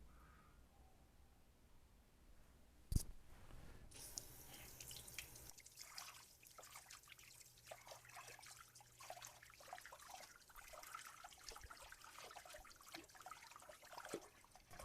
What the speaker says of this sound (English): now we're going to put it under some running water.